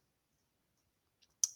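A single sharp computer mouse click, close and crisp, after near silence with only a faint earlier tick.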